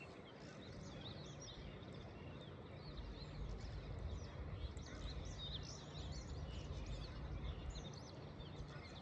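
Birds chirp and tweet faintly in the distance over a farm in the early morning, their calls scattered across a steady low hum of background noise.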